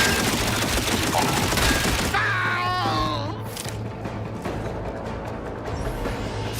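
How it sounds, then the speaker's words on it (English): A missile attack in The Outer Worlds 2: a loud, dense roar of explosive blasts gives way to a whistling, descending streak and a rumbling tail that slowly settles. "There, a missile."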